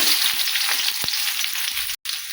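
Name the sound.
onions frying in hot oil in a kadai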